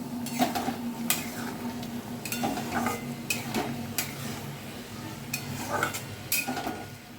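Mustard prawns (sorshe chingri) being stirred in a pan after the lid comes off: a steady low sizzle runs throughout while a spatula scrapes and clinks against the metal in short bursts spread across the stretch.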